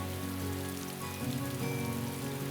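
Rain falls steadily as a dense, even hiss under a tonal music bed, continuous and moderately faint with no voices.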